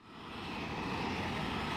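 A cartoon airplane sound effect swells in as a steady engine drone, rising quickly from quiet to a full, sustained hum for just under two seconds with no voices.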